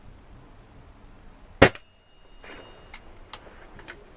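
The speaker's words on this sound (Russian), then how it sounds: "Еще и в темпе стреляю" One sharp, loud crack of an air rifle shot (MP-512 or IZh-38), followed by a few faint mechanical clicks and rattles as the rifle is handled nearby.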